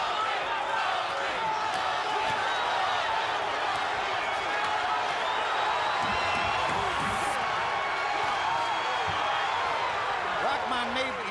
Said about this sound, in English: Crowd is starting to chant Toney,